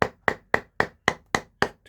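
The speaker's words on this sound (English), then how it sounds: "I'm just going to tap it with a hammer a bit firmer to" A hammer taps on the stitched leather back strip of a Chukka boot upper, eight sharp, evenly spaced knocks about a quarter second apart, close and alone with no talk.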